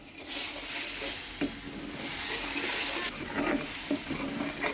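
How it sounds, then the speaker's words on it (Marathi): Raw peanuts and cumin sizzle in hot oil for a home-cooked vegetable tempering, with steady frying hiss and a few scrapes of a stirring spoon against the pan, close and continuous. "शेंगदाणे कच्चे असल्यामुळे वास नाही मारू म्हणून मी अशी फोडणी देऊन घेते"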